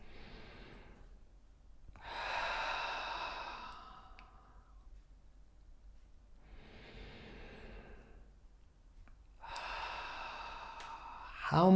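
Slow, deep breaths drawn in and let out during a guided breathing exercise, four long airy strokes alternating inhale and exhale, close and soft with no talking.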